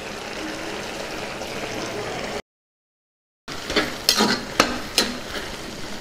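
A spoon stirs garam masala into a simmering spring onion and chana dal curry, with a steady sizzling bubble, a short silent gap, then several sharp scrapes and knocks against the pan.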